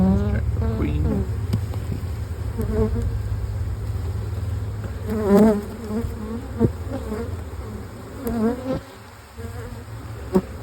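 Honey bees hum in a steady, close drone around an open Saskatraz nuc hive during an inspection, with a few individual bees buzzing louder past the ear and a voice speaking occasionally.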